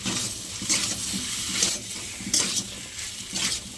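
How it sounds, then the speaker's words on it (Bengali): Rice with cumin powder being stirred in a pan, a steady soft sizzle with scraping strokes of the spoon recurring every second or so, close and without talk. "এই জিরের গুঁড়োটা দিয়ে দেবো, ভালো করে নেড়ে চেড়ে নেবো।"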